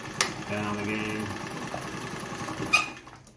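A Frister & Rossmann sewing machine sewing in reverse, a steady close motor whir with rapid needle ticking that holds for a few seconds before easing off, with a couple of sharp clicks.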